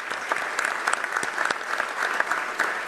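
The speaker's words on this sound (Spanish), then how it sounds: "un aplauso para ese equipo" Steady applause from an audience at the launch of the 78th Expo Rural San Justo, a dense continuous patter of many hands clapping at moderate distance, with no voices above it.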